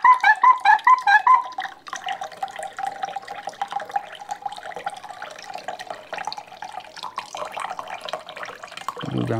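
Water gurgles and trickles through the hoses of a Sagan Life Aquabrick aquarium filter system, opening with a quick run of bright rhythmic drips, then a steady close bubbling flow with air in the lines.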